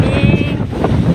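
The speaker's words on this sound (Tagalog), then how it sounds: "Lakas ng hangin dito" Strong typhoon wind in Tagbilaran City, Bohol buffets the microphone in a loud, continuous roar, with a faint whistling tone briefly audible.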